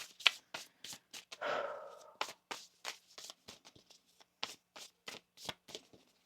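Tarot cards being shuffled by hand, a close series of crisp riffling snaps and flicks in irregular bursts, with one longer smeared riffle early on, and no talking.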